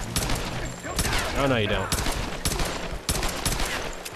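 Gunfire in Tomb Raider, a string of sharp shots at a steady rhythm, loud and close, with someone talking over it.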